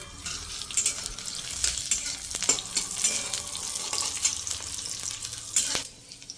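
Onions frying in a pan with Kashmiri chili powder, turmeric, salt and a little sugar for a dried fish mash, sizzling steadily with bursts of stirring and scraping, fairly close, with no speech.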